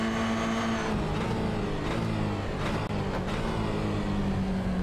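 A Toyota GR86 race car engine roars at Sebring in iRacing, held at high revs under full throttle with steady sustained drone and shifting pitch as gears change, loud and close throughout.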